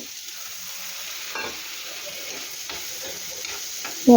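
Chopped tomato sizzles steadily in a pan of fried onions for spinach curry, a soft continuous frying hiss with a few stirring scrapes and a brief louder clatter at the very end.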